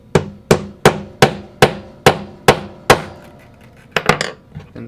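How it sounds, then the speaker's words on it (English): A hammer pounds a spring flush on a cyclone upgrade kit with eight sharp, evenly spaced metallic strikes close by, then a quicker cluster of lighter taps. "Press the spring there and grab your hammer."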